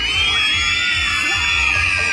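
A group of children at a clown's party show scream together on request, a loud sustained chorus of high shrieks and shouts filling the whole stretch.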